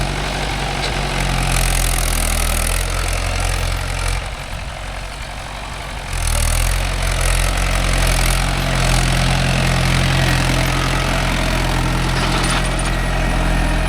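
A Mahindra 575 DI tractor pulls a 9-tine cultivator through dry land, its diesel engine a steady, loud low drone throughout that dips briefly in the middle before resuming at full strength.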